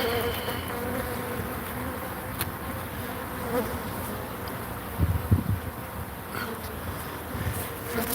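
Honey bees swarm in a hive, holding a dense, steady buzz throughout with a few louder bumps and handling sounds, and no voices over it.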